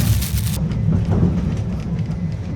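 Steady rain heard from inside a train at Chișinău, a dense broadband patter with a low rumble, loud and continuous with no talking.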